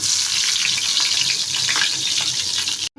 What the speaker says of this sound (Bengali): বেগুনটা আগে থেকে আমি মশলা দিয়ে মাখিয়ে রেখে দিয়েছিলাম, এখন ভেজে নিচ্ছি